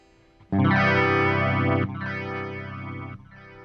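An electric guitar played through a Meris LVX delay pedal with pitch shifting off rings out in sustained chords, distorted and chorused, with smeared repeats trailing each strum across three struck notes.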